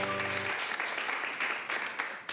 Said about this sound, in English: Give yourself a round of applause for supporting live local improvised theater.